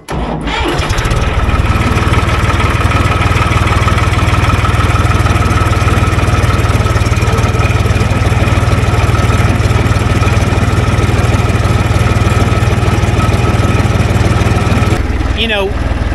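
A diesel engine on heavy equipment cranks on a jump starter and catches, then settles into a loud, steady idle with a deep rumble that runs until a clatter near the end.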